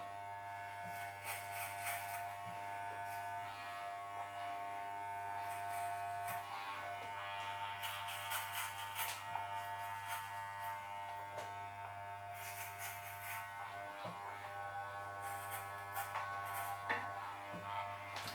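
Electric hair clippers buzz continuously at a low, steady pitch, with a brighter, harsher whir as they bite in at intervals. Quiet and close, with no talking.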